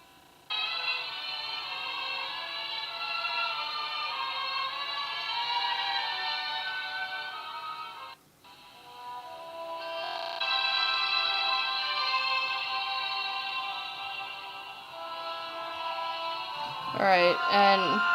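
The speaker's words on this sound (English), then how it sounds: "let's listen to some Brahms" Classical music plays loudly through a smartphone's built-in speaker, sustained melodic tones with a brief pause midway and a thin, tinny character.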